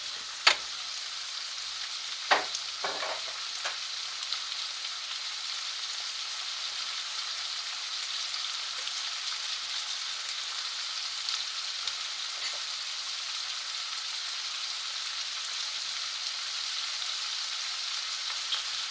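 Costco oriental stir-fry noodles sizzle steadily in a pan, a continuous bright frying hiss with a few sharp clinks of tongs stirring early on, no talking.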